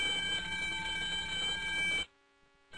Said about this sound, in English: the computer activates the audible and visible alarm